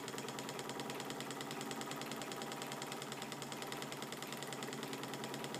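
A sealed atmospheric Stirling engine runs at a fast, steady beat, giving a constant whirring clatter like a sewing machine, close and unbroken throughout.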